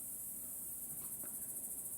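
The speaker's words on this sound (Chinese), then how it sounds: "就是很明显的一个蝉鸣的声音。" An AI-generated cicada chirping sound effect plays as a continuous, pulsing high buzz that stays even and fairly loud throughout, with no voices.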